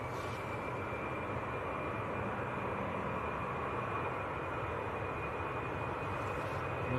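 A Finnair Airbus A319 departs Manchester Airport for Helsinki, its jet engines making a steady, broadband roar that holds loud and even throughout with a faint high whine on top.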